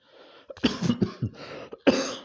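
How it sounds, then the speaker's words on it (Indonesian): A person coughs several times in a rough, raspy cluster, close to the microphone, with throat-clearing sounds between the bursts. "Maaf batuk."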